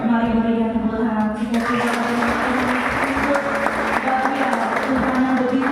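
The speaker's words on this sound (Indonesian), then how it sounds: "Mari berikan tepuk tangan." A church congregation applauds together during a worship service, a steady, dense wash of clapping that fills the room and continues without a break.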